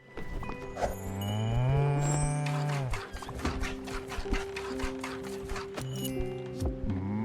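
A cow moos in the video game Spiritfarer, a long, loud drawn-out low call followed by a rhythmic run of clicking steps and layered tonal game sounds, with no speech.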